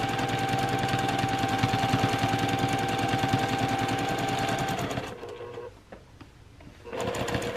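A sewing machine stitches down small quilt pieces for a heart collage, running in a fast, steady, loud rhythm before briefly pausing and then starting again.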